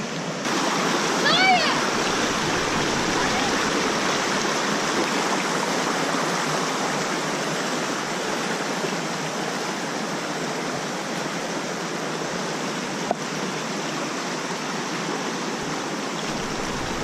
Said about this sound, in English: A river with a pool, right?